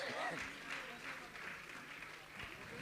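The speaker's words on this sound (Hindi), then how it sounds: "आप जोरदार ताली बजाकर इनका सम्मान करें। ताली आपकी बजने चाहिए।" Faint, distant applause from the audience at a Jain religious discourse gathering, a soft steady patter of clapping lasting about three seconds with some voices mixed in.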